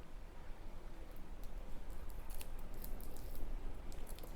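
Scissors snip through plastic packaging in a quiet indoor room, a few faint, crisp cuts and rustles over low background noise.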